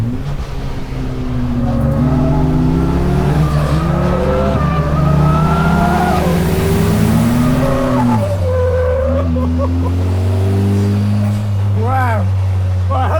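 A sports car accelerates hard around a track, its engine rising and falling loud and close through gear changes, with tire squeal on the corners. A driver speaks briefly over it.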